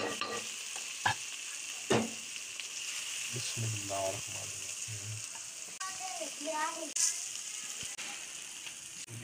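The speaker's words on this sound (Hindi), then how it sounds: "अल्हम्दुलिल्लाह भिंडियाँ हमने फ्राई करके निकाल ली है।" Okra fried in ghee sizzling in a pan, a continuous moderate crackle with a few sharp utensil clinks and scrapes, and a person speaking partway through.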